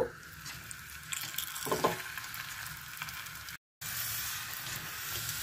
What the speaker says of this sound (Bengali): এইভাবে আমি পরোটাটা ভেজে নেব।